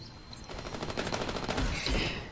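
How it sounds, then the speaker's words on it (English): EVA-8 semi-automatic shotgun from the game Titanfall firing a rapid series of booming blasts in quick succession, loud and close, with no talk over it. "Next is the EVA-8 shotgun. It's a semi-automatic shotgun"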